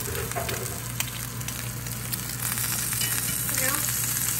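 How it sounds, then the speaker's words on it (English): A swordfish steak frying in a pan gives a steady, moderately loud sizzle and crackle with a faint hum beneath, continuing throughout. "So we're cooking a swordfish steak on New Year's."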